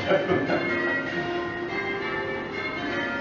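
Six church bells in a steady change-ringing peal, dense overlapping strikes sustained at an even level throughout.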